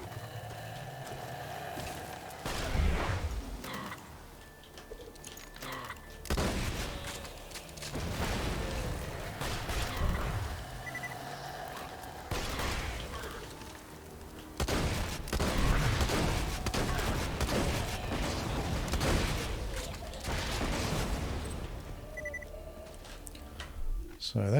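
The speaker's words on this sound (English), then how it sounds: "So that's the sword explosion." Sword explosions from a weapon in the Borderlands 2 video game burst out repeatedly as sharp, booming blasts in irregular clusters, each followed by a rumbling tail, with gunfire-like crackle between them.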